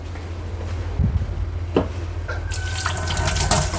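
Water runs from a tap while something is washed, a steady close rush with brief splashes, then a brighter, louder gush in the final second or so.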